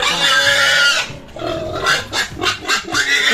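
Pigs being fed grunt and squeal loudly and up close in a continuous noisy jumble. Short rhythmic grunts repeat toward the end.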